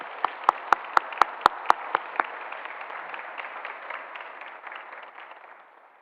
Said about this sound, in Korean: 우리 이 시간 성도님께 환영의 박수로 맞이하도록 하겠습니다.